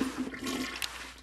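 A cartoonish toilet flush from the Day of the Tentacle adventure game: a short, loud gush of rushing water with a bright splashy burst near the end, heard alone without talk.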